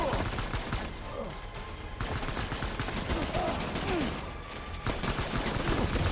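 Gunfire in the video game Death Stranding: dense, loud volleys of shots crackle almost without pause for several seconds.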